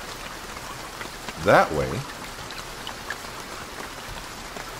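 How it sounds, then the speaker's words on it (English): Steady rain pattering in the video game BugOut, a soft, even hiss running throughout with a brief burst of a man's speech near the middle. "Oh, and it's raining."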